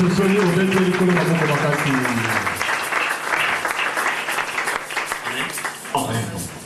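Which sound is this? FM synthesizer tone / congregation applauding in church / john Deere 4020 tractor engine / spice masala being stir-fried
congregation applauding in church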